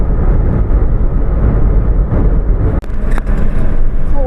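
A car travelling along the Dankuni road, a steady, loud road rumble and engine drone heard from inside, continuous with a brief dip partway through and no talk.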